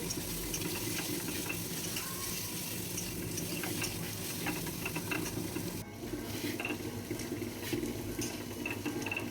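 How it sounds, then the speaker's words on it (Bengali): Potatoes fry in a pan after fish, with a soft, continuous sizzle and stirring scrapes, fairly quiet and close, with no talking. "এবারে আলুগুলো ভেজে নেব।"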